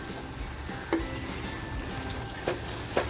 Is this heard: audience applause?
no